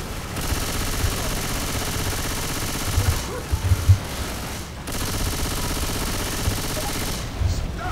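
Sustained Uzi submachine gun fire in the zombie shooter Left 4 Dead 2, a dense unbroken rattle lasting several seconds, briefly dropping out near the middle before resuming, with heavier thumps mixed in.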